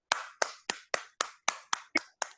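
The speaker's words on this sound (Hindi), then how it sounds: "तो मैम के लिए एक जोरदार सा ताली दीजिए" Audience applause greeting a woman called to the stage at a panel event, heard as eight sharp, evenly spaced claps or bursts, close and fairly loud, with no talking over them.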